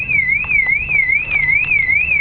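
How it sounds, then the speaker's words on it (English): Factory OEM alarm on a BMW E46 330i going off, a loud, close electronic siren sweeping up and down in a steady repeating warble with no talking. "and the alarm goes right off"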